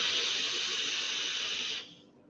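A long pull on a low-ohm single-coil vape with plenty of airflow produces a steady airy hiss that holds for almost two seconds, then drops away quickly to a faint tail.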